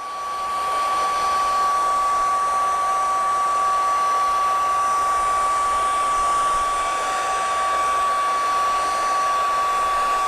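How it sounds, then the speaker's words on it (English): A hair dryer on its low setting blows paint across paper, giving a steady, loud whirring hum with a constant airy rush that holds unchanged for about ten seconds. "Turn the hair dryer on low."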